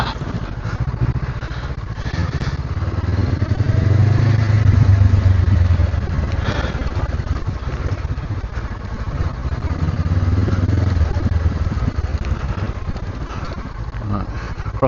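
Honda CB500X motorcycle being ridden on a solo adventure trip, its engine a steady mid-pitched drone that rises and falls with throttle, heavily mixed with wind rumble throughout.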